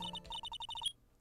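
A phone hang-up sound effect from the courtroom game Phoenix Wright: a quick run of bright, evenly spaced electronic beeps, about ten short tones within a second, ending abruptly and heard alone.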